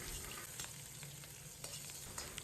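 Ginger slices, garlic slices and small chilies stir-fry in hot oil in a wok, giving a quiet, steady sizzle broken by soft scrapes and taps as the spatula moves through them.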